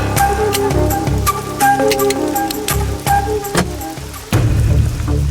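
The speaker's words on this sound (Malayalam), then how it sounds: "മുടിഞ്ഞ മഴ." Heavy rain falls at night, a dense steady wash that runs throughout, with a few sharp knocks and a louder surge near the end.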